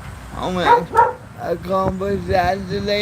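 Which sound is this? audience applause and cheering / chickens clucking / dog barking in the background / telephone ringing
dog barking in the background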